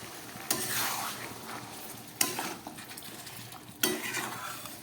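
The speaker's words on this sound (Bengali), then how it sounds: "জল দিয়ে দিলাম" Mutton masala sizzles in a pan as water is poured in and stirred, giving three sharp hissing bursts that fade into quieter bubbling, with faint utensil scrapes between them.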